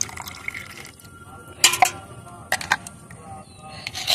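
Soaked organic fertilizer liquid is strained through a sieve or cloth, making soft trickling and dripping with a few sharper splashes and drops over a quiet, faintly hissing background.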